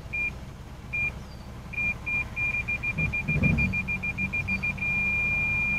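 Rear parking sensor on a 2012 Lexus RX350 chirping in short, evenly spaced beeps that speed up and then merge into one steady tone as the bumper nears an obstacle, clear over a low engine hum.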